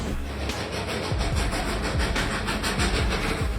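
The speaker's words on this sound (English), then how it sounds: "Out of the smoke at Bao'e comes the train appearing like a scene from a magic show" Train rolling out of smoke at Bao'e, a continuous rumble with rhythmic clickety-clack of wheels over rail joints and a hissing wash, close and steady throughout.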